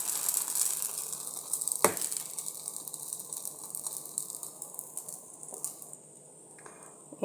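Dosa batter made from ration rice sizzling in oil on a hot pan, a steady close crackle and hiss with one sharp clink partway through, fading slightly toward the end.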